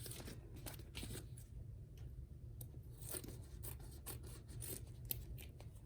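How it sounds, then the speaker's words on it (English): Scissors snip through sticky heat transfer material on a treat bag, a quiet run of close, crisp cuts and crinkly rustling at an irregular pace, with no talking. "I'm just going to cut this off."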